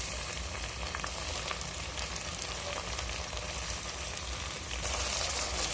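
Onions frying in a pan, a soft continuous hiss and crackle at low volume, steady throughout with no talking.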